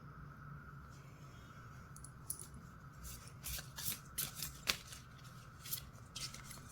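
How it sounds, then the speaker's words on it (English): Tarot cards are shuffled close by in soft, papery riffles and flicks, quiet bursts coming and going over a low, steady hum. "I'm going to be shuffling the cards"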